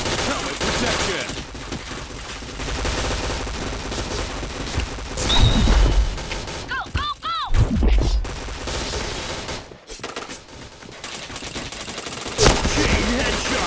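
Rapid bursts of video game shooter gunfire crackle and pop in dense volleys across the stretch, joined by announcer-style callouts and a few electronic effects.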